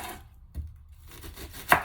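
Knife chopping a sweet onion on a cutting board, a few separate sharp taps with short pauses between them, close and fairly quiet.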